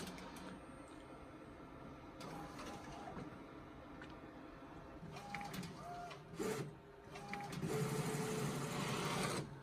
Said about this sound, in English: run a single piece of paper through my printer right now to do a nozzle check